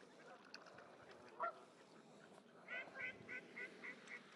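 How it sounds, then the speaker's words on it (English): Ducks and geese honking and quacking in a snowy forest park, faint and distant, a single call early on followed by a rhythmic run of repeated honks. "all the birds are coming. Yep, the ducks got some snow"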